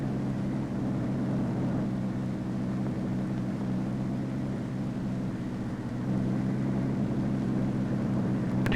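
A Convair 7002 aircraft taking off and flying, heard as a steady, loud engine roar with a deep low drone that holds level throughout, slightly swelling toward the end, with no voices.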